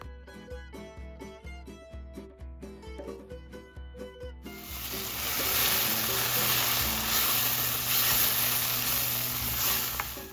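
Ground masala paste hits fried golden-brown onions in a hot oiled pan, breaking into a loud, continuous, close sizzle after a few seconds of rhythmic music.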